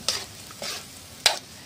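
Sardines and bamboo shoots being stirred in a frying pan, with three distinct scraping stir strokes over a soft background sizzle, close and fairly quiet.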